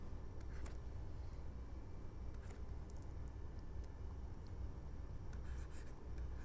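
Handwriting a set of paired elements inside curly braces gives a soft, continuous scratching of pen or chalk with faint taps, quiet and close, and no voice over it.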